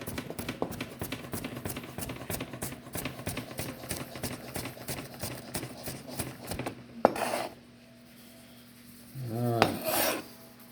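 A knife chops avocado and other guacamole ingredients very finely on a board, producing rapid, evenly spaced close-up tapping strokes for about seven seconds, followed by a couple of brief rustling knocks.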